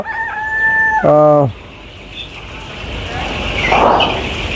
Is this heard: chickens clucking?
yes